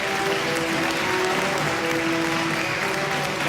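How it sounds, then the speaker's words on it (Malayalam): Continuous audience applause for people called up onto a stage at a Malayalam public event, a full steady wash of many hands clapping, loud and close, with a faint voice beneath. "ആരതി പടത്തിൽ ഇവർക്ക് എല്ലാവർക്കും നല്ലൊരു കയ്യടി കൊടുക്കണം കേട്ടോ"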